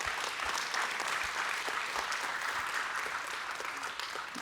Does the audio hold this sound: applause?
yes